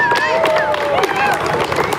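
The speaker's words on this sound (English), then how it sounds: "Let's give them a round of applause." A crowd at a community event claps steadily with cheering and whooping voices mixed in, busy and close throughout the short burst.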